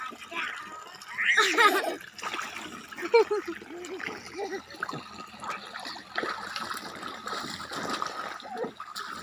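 Children jump and splash in cool water at a garden pond, irregular splashes and trickling water mixed with laughter and lively chatter throughout.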